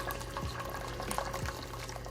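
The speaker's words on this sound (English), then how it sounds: "I'm adding kettle hot water" Boiling-hot water from a kettle pours steadily into a pot of vegan Mexican pozole, a continuous close splashing with no one speaking.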